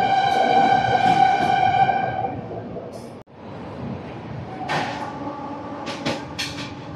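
The Puri–Howrah Shatabdi Express rumbles along the rails near Santragachi Junction, a loud, steady roar with tonal whining that drops off abruptly, then continues more faintly with intermittent rattles and clatters.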